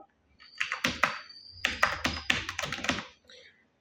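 Computer keys are typed in short bursts of crisp, close clicks and taps, a few rapid strokes clustered together with brief pauses between them.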